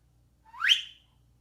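A man whistles a single short rising note, clear and close, alone against near silence.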